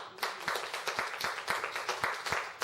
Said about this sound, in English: Hand clap right there.